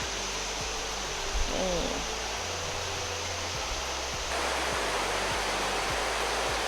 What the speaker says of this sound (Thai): น้ำไหลแรงนะคะเนี่ย